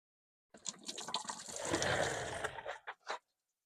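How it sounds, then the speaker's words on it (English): Diesel fuel runs out of the bottom of a fuel filter on a 1996 Dodge 12-valve truck, a soft, close splashing stream that starts abruptly, gurgles for a few seconds and ends with a couple of final spurts into a drip pan. "Here comes the fuel right out of the bottom of this filter."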